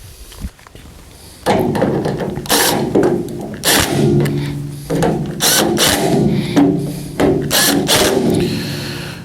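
A power driver whirs in repeated short bursts, separated by brief pauses, as three screws are run in one after another close by, fastening a door latch on a 1952 Chevrolet pickup door.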